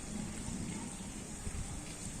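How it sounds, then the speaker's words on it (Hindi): Rain falls steadily as a storm arrives, a constant, fairly soft rushing wash with a faint low rumble underneath and no voices. "अच्छी खासी बारिश"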